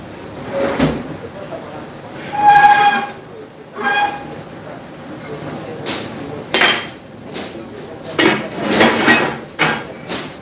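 Hammer tapping a metal part while fabricating a support bracket for a Fuller truck gearbox in a workshop, several sharp ringing metallic knocks spaced irregularly across the stretch, with a voice talking between them.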